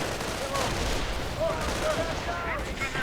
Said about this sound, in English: Grenade right there, of course, clearing out quite a few.